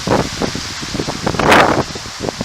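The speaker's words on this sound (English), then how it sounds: "The wind is horrible." Strong wind of around 20 mph or more blows across a high mountain ridge, buffeting the microphone with loud, gusty rumbling and rustling that surges near the middle.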